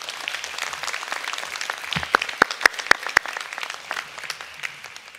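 Scattered applause at a graduation ceremony honours the graduates' families, a light wash of clapping from a large audience, with a few sharp, close claps standing out near the middle.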